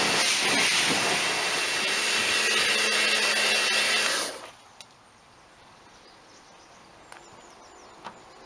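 A pressure washer hisses steadily as foam is rinsed off a Toyota Carina, the loud spray running for about four seconds before cutting off abruptly and leaving a few faint clicks.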